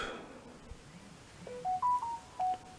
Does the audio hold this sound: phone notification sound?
yes